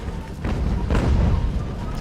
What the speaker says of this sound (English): Cannons opening fire, smashing the skirmishers, pushing them back